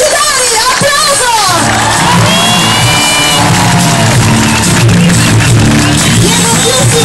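A loud crowd cheers, whoops and shouts at the America's Cup World Series awards ceremony in Naples, raised voices rising and falling in overlapping calls close by.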